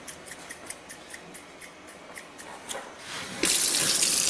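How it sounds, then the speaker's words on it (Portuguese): Kitchen scissors snip through salami and cheese for a sandwich in a quick, even series of close cuts, then a faucet starts running loudly. "Será que dá pra cortar com tesoura?"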